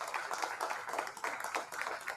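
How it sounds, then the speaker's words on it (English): Audience applause fills a national roundtable on the future of education in Nigeria, a steady patter of many hands clapping at moderate loudness with small swells throughout, and no voices over it. "Can we please make that applause for her a bit louder than that?"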